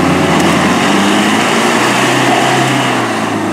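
A Troller T4 jeep engine revs hard in third gear on an off-road trail. The engine roars loud and close, holding a constant strain throughout with a buzzing, high-pitched drone.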